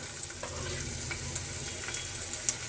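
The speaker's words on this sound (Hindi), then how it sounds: "1 मिनट के लिए इसे हम सॉटे कर लेंगे ताकि इनका फ्लेवर अच्छे से एनहांस हो जाए।" Garlic, ginger and green chilli sauté in hot oil, giving a close, continuous sizzle and crackle with a few faint stirring taps.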